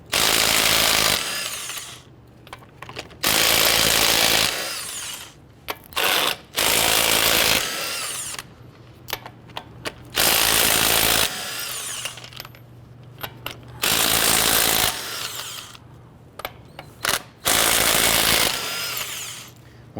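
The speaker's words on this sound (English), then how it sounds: "go ahead and loosen and remove all of your lug nuts" A power impact tool loosens and removes the lug nuts with a 22mm socket on a 2007-2014 Cadillac Escalade wheel, firing in repeated loud bursts with short gaps and clinks between them.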